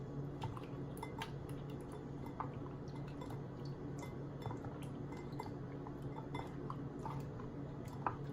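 Shrimp and egg mixture seasoned with black pepper being mixed by hand in a bowl, giving soft, steady wet squishing and sloshing with occasional light clinks, close and moderately quiet, no talking.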